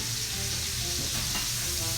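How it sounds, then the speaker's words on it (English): Sausage browning in a pan seasoned with smoked paprika gives a steady, close sizzle and frying hiss that holds evenly throughout, with faint stirring scrapes and no voices. "While our sausage is browning"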